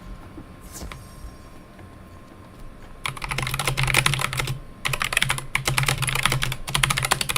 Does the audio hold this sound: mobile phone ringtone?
no